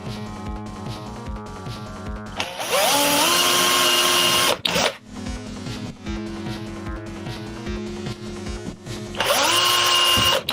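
A power drill drives screws in a workshop, giving whining bursts that rise in pitch and strain as each screw bites, separated by short pauses and lighter chattering spins. It is close and loud, with no talking.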